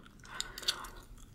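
Gum being chewed close to the mouth, with a few soft, sticky bites and clicks over about a second and a half, fairly quiet and with no talking.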